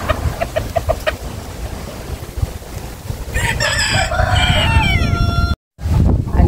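Chickens, including Nagasaki bantams and a black mini cochin rooster, cluck and call close by, with a rising crow-like outburst in the second half over a steady farmyard background and some faint talk early on.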